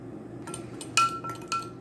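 Honey stirred into fire cider in a glass jar, a spoon clinking against the glass in a few bright, irregular taps over a low hum, close and moderately loud.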